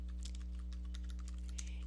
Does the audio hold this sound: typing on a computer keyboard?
yes